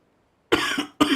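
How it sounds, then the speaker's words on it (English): A man with a lingering COVID cough lets out two quick, harsh coughs close to the microphone, separated by a short pause, with no other sound around them. "Sorry about the cough. I'm still suffering my COVID cough"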